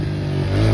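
A four-stroke dirt bike with stock exhaust revs close and loud, a steady droning engine note that climbs slightly in pitch over a brief moment.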